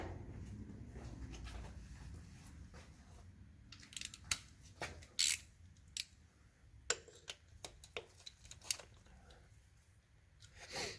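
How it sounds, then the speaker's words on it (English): Sharp plastic clicks and snaps from a red lock tab being released on a Chevy Traverse crank sensor connector, several irregular close-up ticks over a quiet background. "you want to pull this red lock tab out towards you to release it"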